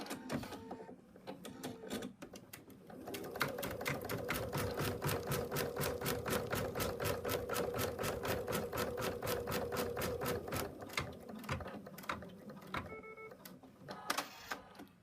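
An embroidery machine runs a basting stitch on an in-the-hoop bunny project, with rapid, evenly pulsing needle strokes held for several seconds, then slowing to sporadic clicks and stops near the end.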